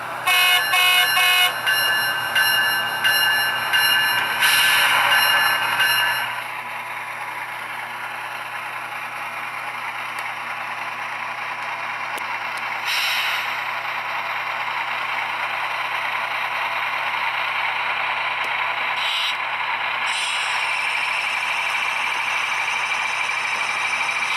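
A ScaleTrains HO scale ET44 GE demonstrator model locomotive with a LokSound decoder gives several loud horn blasts, then settles into a steady diesel engine rumble with brief louder surges, with no one talking.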